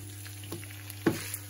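Mackerel fish meat dropped into a hot pan gives a faint, steady sizzle with a brief louder hiss partway through, close and without talk.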